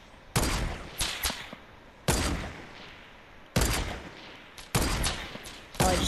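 Rapid bursts of video game gunfire crack out in four loud volleys during a base raid, each a quick cluster of shots with short gaps of quieter background between them.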